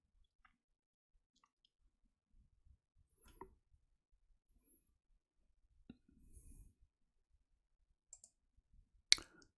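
Computer mouse clicks while working in a drafting program: a few soft, sparse clicks spread across a quiet stretch, one sharper click near the end, with faint handling noise and no talk.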